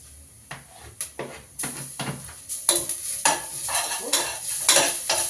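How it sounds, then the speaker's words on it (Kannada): Ginger garlic paste sizzles in hot oil with browned onions while a spoon scrapes and stirs the pan in repeated strokes, the frying growing louder and busier through the clip, close up and with no talking. "ಸ್ವಲ್ಪ ವಾಸನೆ ಹೋಗೋ ತನಕ ಫ್ರೈ ಮಾಡಬೇಕು"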